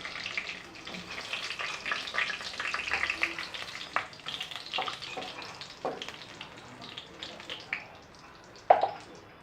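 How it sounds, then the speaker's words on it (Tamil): Cinnamon, star anise, bay leaf and whole spices frying in hot oil for mutton curry make a steady moderate sizzle with scattered crackling pops throughout. "இப்போ எண்ணெய் நல்லா காஞ்சிருச்சு. இந்த சமயத்தில் ஒரு பட்டை, ஒரு நட்சத்திர சோம்பு, அப்புறம் ஸ்பைசஸ் போட்டுக்கிறேன்."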